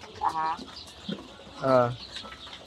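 Darag native chickens at a hatchery farm cluck in two short bursts close by, with someone talking over the birds.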